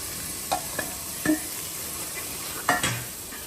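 Pakora patties for kadhi pakora sizzle steadily in hot oil, with a few sharp crackles and spatters popping out at irregular moments over a soft hiss.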